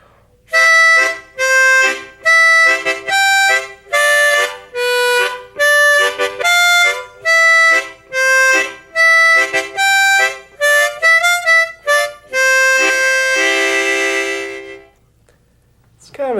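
Harmonica plays Skip to My Lou with tongue-blocked chord accompaniment on holes 1, 2 and 3, loud and close, the melody carried in rhythmic bursts with fuller chordal texture, ending on a sustained held chord.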